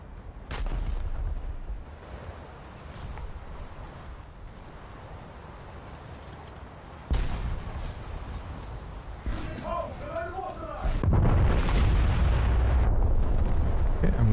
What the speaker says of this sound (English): New Orleans is shooting at me with secondaries